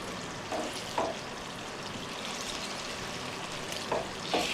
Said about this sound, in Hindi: चलो अब इन्हें हल्की आंच पे फ्राई करना है कि इनका रंग चेंज हो जाए